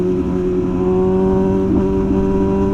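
An MV Agusta motorcycle fitted with a decat SC Project exhaust, its engine running loud and steady with a strong harmonic drone and slight rises in revs, close by, with no talking.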